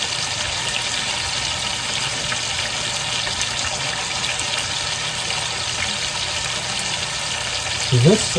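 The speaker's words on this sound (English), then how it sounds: "Is steak cooking and sizzling like this" Continuous loud sizzling of meat frying in a hot pan, steady crackle throughout with a brief low clunk near the end.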